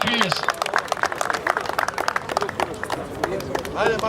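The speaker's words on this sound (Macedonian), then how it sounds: "Аплауз за женката со каталошки број 30" A crowd applauds and cheers a winning female Sharplanina sheepdog at a national dog show, with scattered claps and a busy babble of voices throughout.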